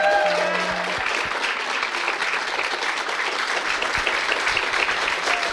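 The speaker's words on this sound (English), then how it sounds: "Give Julissa a round of applause." An audience applauds at a book talk in The Strand bookstore, with sustained clapping filling the room throughout and a brief voice-like tone at the start.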